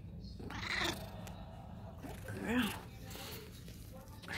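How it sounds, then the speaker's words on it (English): A pet cat gives two close, drawn-out meows a couple of seconds apart while being cuddled indoors, with soft rustling and a low purr-like rumble underneath. "This is my kitty Star."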